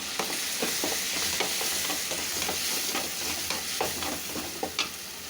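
Crushed tomatoes sautéing with bamboo shoots in a pan, a continuous close sizzle broken by repeated stirring scrapes and taps of a spatula at an uneven rhythm.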